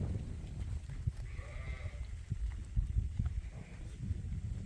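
Sheep and lambs running out of a pen on a farm, with a low bleat or two over a rumble of scuffling hooves and movement, fairly close.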